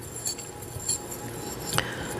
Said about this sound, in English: Now I'm going to take my whisk, and I'm going to go clockwise